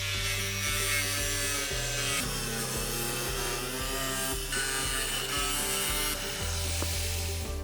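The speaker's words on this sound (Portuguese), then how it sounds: "Mantendo firmemente o moedor ou a serra de vai-vém com lâmina de metal, cortamos a placa seguindo a linha traçada com o marcador." A grinder or jigsaw with a metal blade cuts a corrugated roofing sheet along a marked line. It makes a loud, continuous harsh rasp with a steady mechanical drone, uninterrupted throughout.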